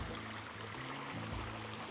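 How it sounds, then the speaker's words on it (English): Steady broadband rush of running river water, continuous and fairly close, flowing over rocks at Lost Maples State Natural Area, Texas, with no voices. "I heard some water kind of running down here behind my little campsite"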